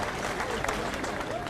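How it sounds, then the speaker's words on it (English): Steady applause from a rugby crowd welcoming back Australian player Campese during the 1988 Wallabies tour of England, a continuous distant wash under faint commentary. "And the crowd applauding Campese back."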